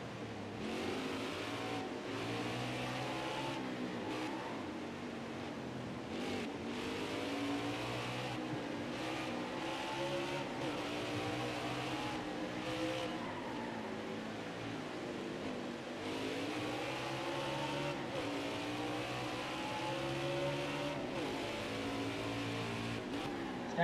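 Race cars in NASCAR Heat 5 run a lap at Mid-Ohio, their engines roaring steadily and loudly through the whole stretch, with pitch sweeps rising and falling as the cars shift and change speed on track.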